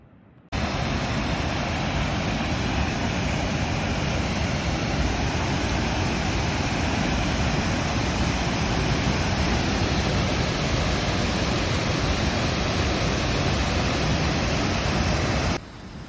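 A constant, dense roar of a river and waterfalls on the Fimmvörðuháls trail in Iceland fills the whole stretch, loud and unbroken like a nearby torrent.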